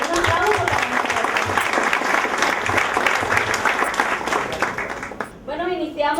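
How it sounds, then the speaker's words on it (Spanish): Audience at a university poetry recital gives a big round of applause, a thick, steady roar of many hands at close range that fades near the end as a voice starts speaking again. "un gran aplauso para la poesía y un aplauso para"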